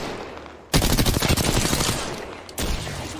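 Rapid bursts of gunfire in the shooter game Apex Legends, loud and close, starting abruptly after a quiet stretch, then cutting out briefly before another burst resumes.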